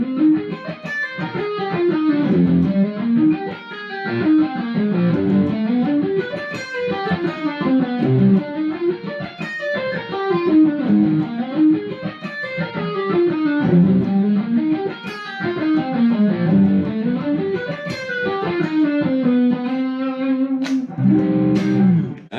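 Electric guitar with distortion and effects running extended harmonic-minor arpeggios in a steady, flowing rhythm, ending on a sustained note; no talking.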